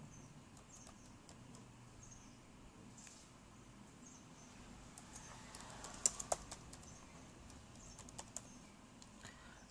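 Keys on a laptop keyboard tap in a light, irregular patter while a search is typed in Windows 10, quiet and close, with a few sharper clicks partway through over soft room hiss.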